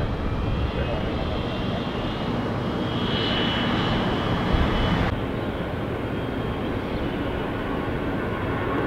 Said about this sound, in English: A lot of planes have to land here, exec jets, to go through customs if they're an international flight